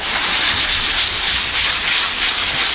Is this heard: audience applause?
no